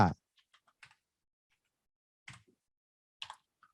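Typing on a computer keyboard: a few isolated key taps and short clusters of clicks separated by silence, close and crisp, with no voices.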